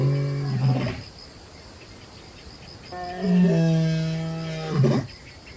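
A male lion roars on the savannah at dusk: two deep, drawn-out roars several seconds apart, ending in grunts, over a steady background of chirping insects.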